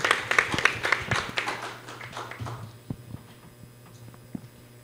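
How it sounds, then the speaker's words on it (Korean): An audience at an environmental policy symposium applauds to welcome a panel speaker: a short burst of scattered clapping that thins out and fades within a few seconds, leaving only a few isolated claps. "박수로 맞이해 주시기 바랍니다"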